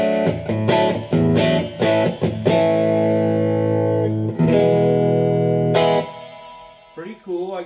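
A Blackstar Stereo 20-watt guitar amp on its clean warm channel carries electric guitar chords and picked notes with light reverb, strummed hits followed by long ringing sustained chords and a brief picked run at the end, loud and close.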